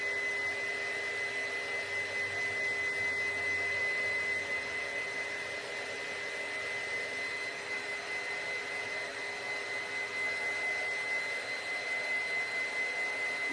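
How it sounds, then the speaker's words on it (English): A heat gun blows a steady, even whine and rush of air for the full stretch while drying freshly painted popsicle sticks for rustic home décor. "I'm gonna go ahead and bring the heat gun out that I have sitting. And we're gonna go ahead and just give these a quick dry."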